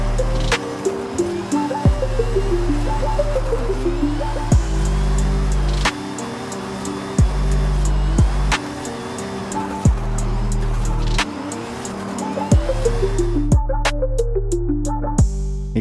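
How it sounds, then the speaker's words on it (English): A rear-wheel-drive car engine in Forza Horizon 5 revs hard while drifting, repeatedly climbing in pitch through the gears, then dropping sharply at each shift, a loud, continuous cycle of rising whine and abrupt gear changes with no talking. "Try focus on the engine sound and the speed it's picking up."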